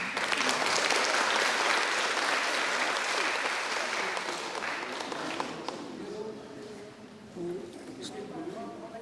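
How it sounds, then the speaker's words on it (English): An audience at a guest lecture in a university auditorium applauds, dense clapping that is loudest at first and gradually thins out, with a voice speaking over its fading tail. "Please give applause once again."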